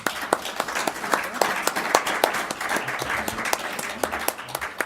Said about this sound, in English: I want everybody to give them a round of applause.